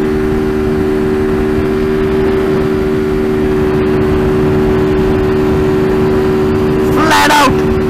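An Apache RTR 200 and a KTM Duke 390 running flat out on a highway at about 130 km/h: a loud, constant engine drone with heavy wind rush and a brief voice near the end.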